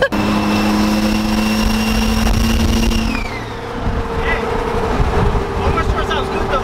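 A lifted turbo truck's engine runs loudly and close by with a steady droning tone that drops in pitch as it eases off, then settles into a rougher rumble.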